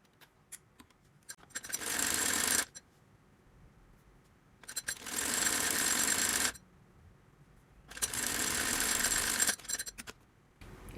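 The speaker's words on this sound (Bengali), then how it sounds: "এখানে আমি একটা চাপ সেলাই দিব নিচে।" Sewing machine stitching fabric for a child's salwar, three sustained runs of rapid mechanical whirring a few seconds each, separated by pauses with small clicks and handling noises, close and fairly loud.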